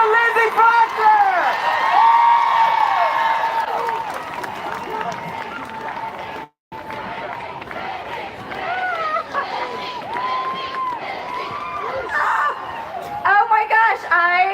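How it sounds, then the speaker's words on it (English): Crowd at an outdoor women's march cheering, whooping and applauding to welcome a speaker, loud and sustained, with one sudden brief dropout midway and voices shouting throughout. "Let's hear it for Lizzie Fletcher!"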